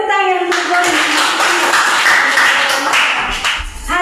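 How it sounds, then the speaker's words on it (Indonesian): Students in a classroom clap together for a classmate during a lesson; a brief burst of hand clapping rises and continues close by for a few seconds, preceded and overlapped by a little talking. "Oke, tepuk tangan untuk Borin."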